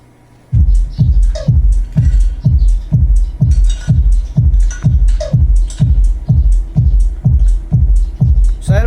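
A Joson Jupiter amplifier from 2021 drives a 1000-watt Live Pro speaker in an L-ported cabinet, pumping loud, steady, evenly spaced bass thumps for several seconds with no talking.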